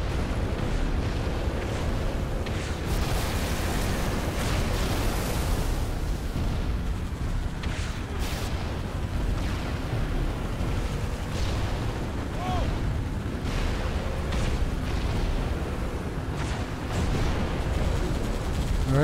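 Dense gunfire and explosions from a Halo 3 battle, continuous rattling shots and booming blasts layered over one another, loud throughout, with voices talking over the fighting.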